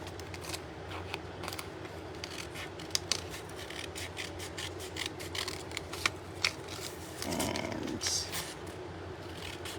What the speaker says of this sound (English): I'm just going to cut around my template again